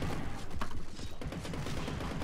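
Rapid underwater gunfire at sharks in the video game Depth, a quick burst of muffled shots in a dense, rattling rhythm over a murky rumble.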